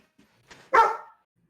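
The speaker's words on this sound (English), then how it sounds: "Why the hell is she putting the freaking barking dog on me?" A dog barks once as a sound effect during a tabletop game session, a short sharp bark preceded by a softer yip, heard alone and fairly close.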